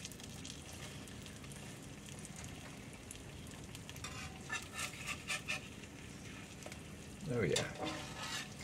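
Egg and onion sizzle steadily in a frying pan, a soft continuous crackle with a few scraping spatula touches, while someone speaks briefly near the end.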